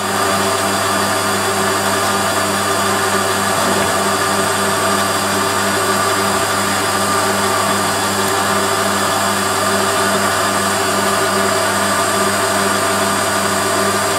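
A metal lathe running under power feed with a toolpost grinder grinding an oversized aluminium workpiece, giving a steady, continuous mechanical hum and whine with a fixed tonal drone that stays level throughout, with no talk.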